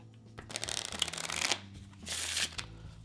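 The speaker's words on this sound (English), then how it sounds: "give it a riffle shuffle as well." Two close riffle shuffles of playing cards, each a rapid fluttering burst of card edges followed by a soft tap as the deck squares up.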